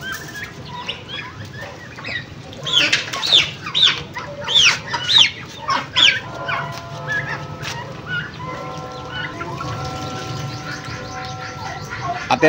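Backyard chickens and turkeys suffering from fowl pox cluck and squawk as they are let loose, with a burst of wing flapping and several loud calls near the start, then softer clucking continuing over steady ambient noise.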